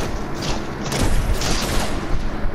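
Distant gunfire in Fortnite, a loud dense burst of booming shots and thuds piling on one another, steady and unbroken, with no voices heard.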